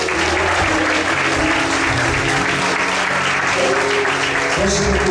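A church congregation applauds: steady, dense clapping from many people that continues without a break for about five seconds.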